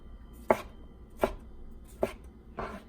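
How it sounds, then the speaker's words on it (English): A knife chops through a tomato on a cutting board in four separate, evenly spaced thuds, close and clear with no talking. "hold the tomato, and then we just chop it"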